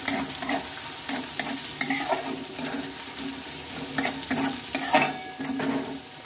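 Thinly sliced onions fry in a pan with a continuous sizzle, broken by repeated scraping stirs and clinks of a spatula, close and fairly loud.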